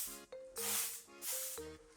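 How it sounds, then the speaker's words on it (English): Two short hissing sprays of a hairspray can, close by, each lasting about half a second, with faint background tones between them. "I will be using a little bit of hairspray"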